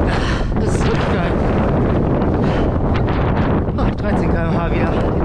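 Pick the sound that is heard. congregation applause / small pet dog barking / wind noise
wind noise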